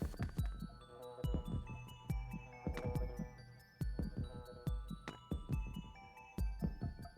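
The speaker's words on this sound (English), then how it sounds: "Sounds kind of heartbeat-y in here" Heartbeat-like ambient throbbing in a Klonoa video game level: deep, soft paired thumps pulse in a steady rhythm under layered musical tones and chimes, with no talking.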